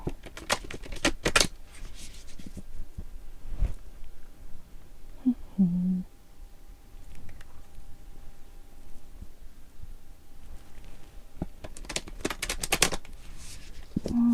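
Deck of cards shuffled in a quiet room, with bursts of crisp riffling and flicking near the start and again toward the end, close and soft with brief pauses between.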